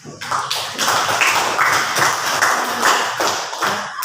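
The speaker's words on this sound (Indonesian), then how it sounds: "Tepuk tangan untuk Firdi dan Hasbi" Students in a classroom applaud two classmates with a dense, continuous burst of hand claps that stays fairly loud throughout, with no talking over it.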